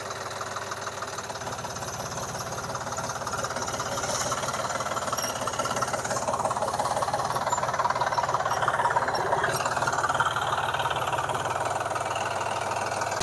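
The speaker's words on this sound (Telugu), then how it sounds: "మనోడైతే కల్టివేటర్ కొట్టుడైతే స్టార్ట్ చేసిండు మామ" A tractor pulls a cultivator through a farm field, its diesel engine chugging in a steady knocking rhythm at moderate distance, growing slightly louder after the first few seconds and continuing evenly without speech.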